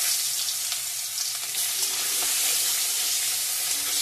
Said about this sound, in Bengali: ফোড়ন দিয়ে দিলাম শুকনো লঙ্কা,